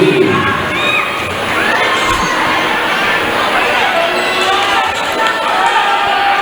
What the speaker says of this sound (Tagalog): Crowd getting excited here at the gymnasium.